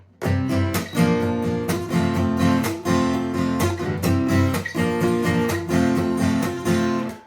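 Strummed acoustic guitar chords change in a steady rhythm, bright and close, with repeated attacks and no voices.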